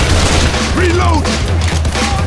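Gunfire in the video game Left 4 Dead 2 during a survival round on the Kalinin HQ map: loud, continuous volleys with heavy booms over a deep steady rumble, plus a few brief whining tones.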